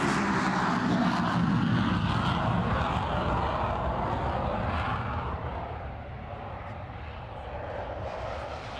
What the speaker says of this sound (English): This is the M346 Linea Aramaki, advanced training and light attack aircraft. Starting to take